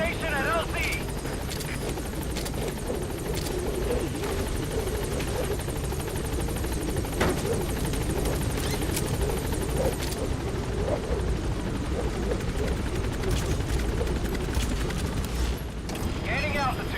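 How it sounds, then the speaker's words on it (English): In the Metal Gear Solid V video game, a helicopter arrives at a landing zone with a loud, constant rotor roar filling the whole stretch, while a radio-style voice speaks over it. "This is B-Quad. On station at LZ."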